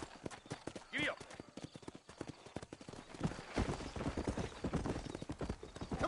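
Horse hooves clip-clop in a steady trotting rhythm throughout a Red Dead Redemption ride near New Orleans, close and prominent, with a brief whinny early on and game voices talking over the hoofbeats.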